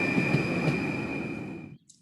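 A steady rumbling train noise with a high sustained whine, as heard in an educational video game, plays for under two seconds, then cuts off abruptly, leaving a brief soft tone.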